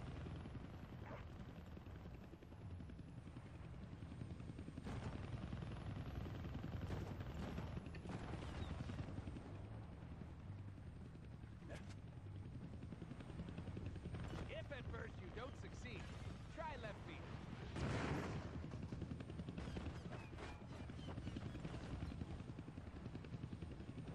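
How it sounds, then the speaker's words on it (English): A helicopter in a Deadpool video game thrums continuously overhead while bursts of gunfire crack sporadically, with a voice talking over the action. "I can't kill that chopper with my guns"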